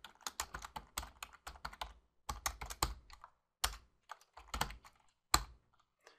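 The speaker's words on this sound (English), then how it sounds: "And I'll write line, B was selected." Rapid bursts of keystrokes on a computer keyboard while a simple Free Pascal program is entered in the Lazarus editor; quiet, close clicking in uneven runs separated by short pauses, with no talking.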